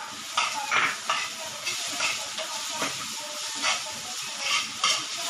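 Onion and chili cook in a pan with capsicum for a South Indian Chinese fusion dish. There is a steady close sizzle and hiss, with repeated stirring scrapes and clinks of a utensil against the pan.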